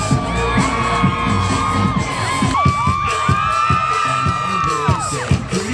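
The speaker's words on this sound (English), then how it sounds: "Each year we have a cheer competition." A loud crowd cheers and whoops at a college charity bowl cheer competition, with shrill shouts and yells rising over a dense roar and occasional sharp bangs.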